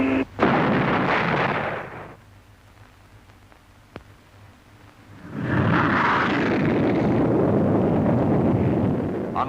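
Sonic boom from a 1950s jet diving through the sound barrier at a Farnborough air show: a sharp crack at the start, a roaring rumble, a lull, then a long loud windy roar, no voices.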